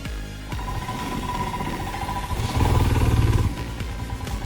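A Royal Enfield Himalayan BS6 motorcycle engine labours steadily as it climbs an off-road incline of 15 to 30 degrees, a continuous low drone that swells louder with added throttle partway through.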